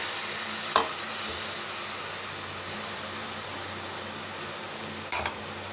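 Palm fruit patishapta batter frying softly in a pan, a steady low sizzle close by with two brief sharp utensil clinks, no talk.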